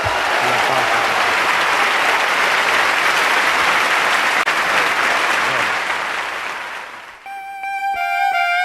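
Studio audience applauding after a song on an AM talk radio show, loud sustained clapping that fades near the end as a short musical tone sequence begins.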